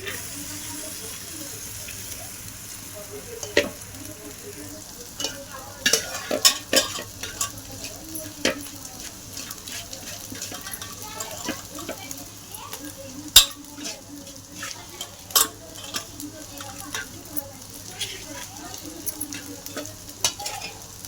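Cooked rice stirred into fried masala in a pan, a soft background sizzle broken by intermittent scrapes and knocks of a spatula against the metal, fairly quiet with no talk.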